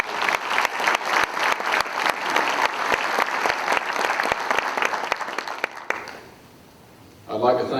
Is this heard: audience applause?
yes